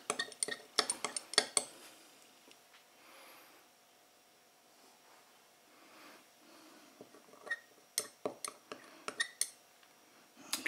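pH indicator solution stirred in a small container, light clinks and taps of utensil against glass or plastic in scattered bursts at the start and end, with a quieter stretch between.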